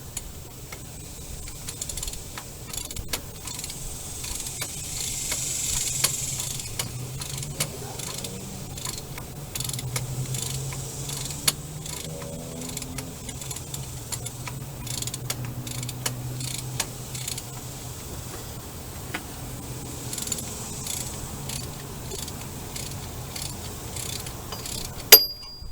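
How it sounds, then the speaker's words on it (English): Bolts being tightened with a ratchet on a replacement AC compressor in a Dodge Ram 1500, soft repeated clicking and metallic ratcheting, faint and close, with low background hum. "Now we can go ahead and tighten them up."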